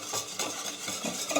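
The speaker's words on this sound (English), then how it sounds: "Give that a good whisk" Wire whisk stirring salt, vanilla extract and raw cacao powder in a bowl, a steady scraping and swishing rhythm with light clinks, close and fairly quiet, no talking.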